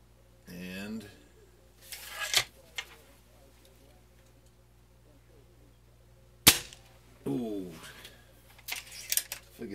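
A Crosman F4 air rifle fires over a chronograph, giving two sharp close pops several seconds apart, with someone talking quietly between and after the shots.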